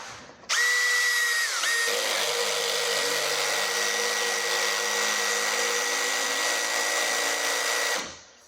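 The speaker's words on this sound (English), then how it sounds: "And we're driving these screws into the foam filler." A power drill drives a screw through a classic rib metal panel into foam filler on a Tuff Shed, a single steady high whine lasting several seconds that dips briefly in pitch early on, then stops abruptly.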